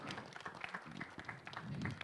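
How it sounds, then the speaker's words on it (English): A brief burst of scattered applause from a small crowd, clapping at close range with some cheering mixed in. "Round of applause for Karanveer and Ishita."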